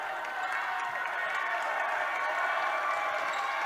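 River Ridge fans at a girls' high school basketball regional semifinal rise in a broad, steady crowd roar of cheering that fills the whole stretch without letting up.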